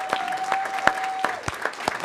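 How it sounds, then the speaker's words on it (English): A small audience at a board of education meeting gives a brief round of scattered, distinct hand claps for students, with a faint steady tone beneath. "please give them a round of applause for all the work they do"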